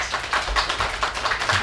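A character in an audio play applauds performatively: a quick, steady run of close, mid-loud hand claps with no voices over it.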